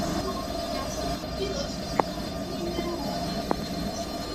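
A train runs in a realistic train video game, with a low steady rumble and hum, faint tonal squeals, and two brief sharp clicks partway through.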